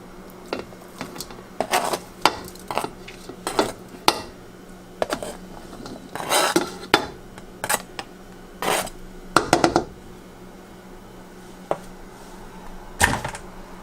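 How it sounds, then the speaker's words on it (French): Sharp knife chops on a cutting board while cutting a bell pepper and a tomato, irregular taps and clacks, close and fairly quiet, with short pauses between strokes and no talking. "On va couper un poivron et une tomate."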